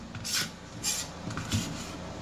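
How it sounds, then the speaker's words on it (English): A knife rasps through a white onion as it is diced on a board, with three soft scraping strokes at an even pace, close and fairly quiet, with no talking. "So you want to start by dicing your white onion."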